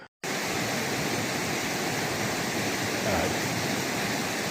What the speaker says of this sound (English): look at the cascade over here